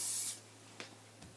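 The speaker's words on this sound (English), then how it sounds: "hairspray it." An aerosol can of hairspray gives one loud, close hiss of about a third of a second onto hair, then cuts off, leaving a quiet room with a couple of faint soft taps.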